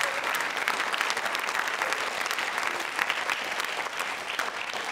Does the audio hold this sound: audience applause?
yes